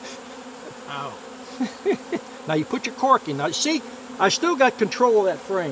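Honeybees buzzing around an open hive while queens are caught and marked, a steady drone under someone talking close by.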